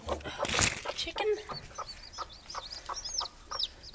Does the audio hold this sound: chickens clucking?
yes